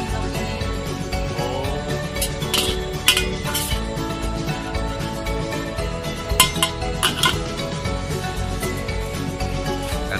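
Pans and metal utensils clink and scrape steadily while nasi goreng is stir-fried at a food stall, a busy, continuous clatter with a few louder knocks and no clear talk.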